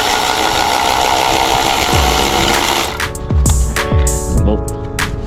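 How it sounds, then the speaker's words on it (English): A Milwaukee 3/8 impact wrench loosens a 17mm bolt during power steering pump replacement on a 2004–2008 Acura TL, giving a loud continuous whirring hammering burst that stops partway, followed by a few clanks and knocks. "Keep removing this 17. I just use that to break the bolt loose. 17. Milwaukee 3/8 impact wrench,"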